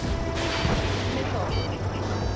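A missile explodes in the Ace Combat flight game, a heavy booming blast and rumbling crash filling the whole moment, loud and close under a voice.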